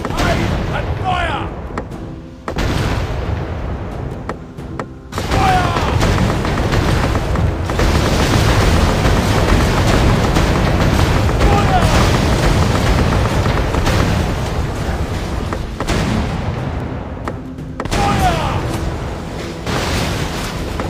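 Pirate ship cannons fire in a video game battle, a dense continuous barrage of heavy booms and rumbling blasts that fills nearly the whole stretch, with brief lulls.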